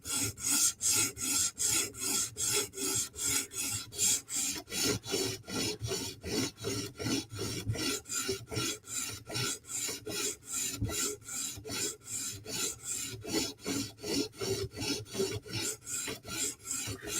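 A Sebenza and a Yojimbo knife edge being sharpened toward a mirror finish to raise a burr, steady rhythmic rasping strokes on a stone, dozens of quick even back-and-forth passes with no talk.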